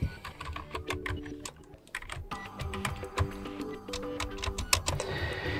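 Quick keyboard typing of a search for a Logitech M330 Silent Plus mouse, a close, steady patter of key clicks with a brief pause before resuming.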